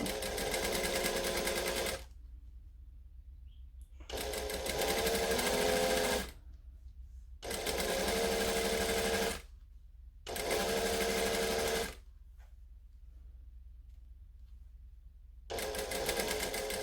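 A sewing machine stitches a seam allowance down to the underside of a facing on a Butterick B6764 garment, running in four loud close bursts of about two seconds each, separated by pauses with faint room hum.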